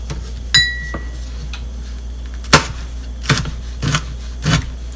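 Peach peppers chopped with a knife on a cutting board, a handful of sharp, separate knocks spaced a second or so apart over a steady low hum, close and clear.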